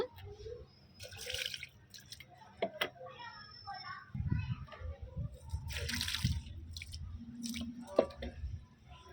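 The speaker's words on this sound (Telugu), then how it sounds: "సో ఇలా వాటర్ని ఇందులో అందించేద్దాం" Water drips and trickles into a plant pot of soil mixed with kitchen waste, giving soft wet splashes and squishes close by, with some faint talk in the background.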